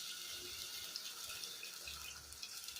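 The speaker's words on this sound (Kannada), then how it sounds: "ನೀರು ಬಸ್ಕೊತಾ ಇದ್ದೀನಿ" Water pours steadily into a sink as it is drained from cooked lentils, a soft continuous splashing stream with faint drips, fairly quiet and without voices.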